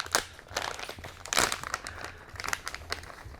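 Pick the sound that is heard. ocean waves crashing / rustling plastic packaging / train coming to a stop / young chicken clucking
rustling plastic packaging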